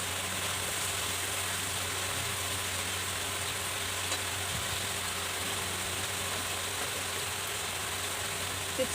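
Masala spice paste sautéed with a little added water in a pan, giving a steady, even sizzle throughout with faint stirring scrapes, fairly quiet and close, and no distinct speech.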